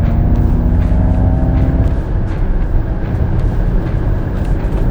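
A 2021 Ford Mustang Mach-E electric SUV accelerates under throttle, producing a rising synthetic whine over loud road and tyre rumble, heard from inside the cabin without voices.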